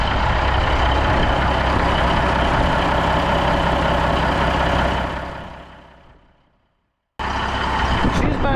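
Peterbilt diesel truck engine idling in midwinter cold, a steady loud close rumble that fades out to silence before the sound abruptly returns.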